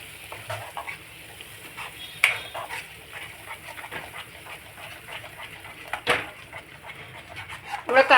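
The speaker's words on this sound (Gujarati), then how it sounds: "કાજુ જલ્દીથી સ્ટીક થઈ જાય છે, એટલે આપણે એને કન્ટિન્યુ હલાવતા રહીશું" A spoon keeps stirring a thick cashew gravy with spices in a pan for a paneer korma, giving soft repeated scrapes over a low sizzle, with a sharper clatter near the end.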